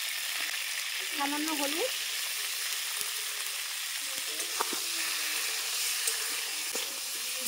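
Pointed gourd (potol) pieces frying in hot oil give a steady, moderate sizzle with a few scattered clinks and stirring taps, and a brief voice speaks near the start.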